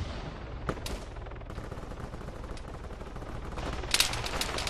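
Gunfire crackles in Arma 3: faint, distant shots, a sharp crack early on and scattered pops later, over a low steady background rumble.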